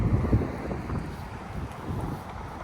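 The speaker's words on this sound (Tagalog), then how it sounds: "Malamig na nga, humahangin pa." Cold winter wind gusts across the microphone outdoors at Busan Station, a rough low rumble that swells and fades with no voices.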